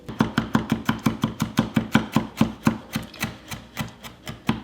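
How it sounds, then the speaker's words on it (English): Fast, even knife chops on a cutting board as a small shallot is minced, about four crisp strikes per second, close and clear with no talking. "Let's go ahead and mince 1 tablespoon of the shallot."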